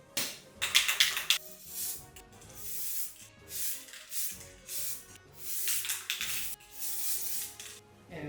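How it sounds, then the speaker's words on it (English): Spray primer hisses from an aerosol can onto a Game Boy Light shell in short and longer bursts with brief pauses, close and fairly clear. "I think it's ready to be sprayed by primer"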